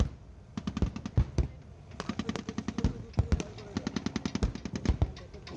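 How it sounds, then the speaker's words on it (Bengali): Artillery and mortar high-explosive shelling against an enemy defensive position by ten fire units, heard as a rapid, irregular barrage of sharp, loud blasts in close succession, packed in dense clusters across the whole stretch with only brief gaps. "হাই এক্সপ্লোসিভ গোলাবর্ষণের মাধ্যমে পুরো শত্রু প্রতিরক্ষা অবস্থানটিকে প্রকম্পিত করা হচ্ছে।"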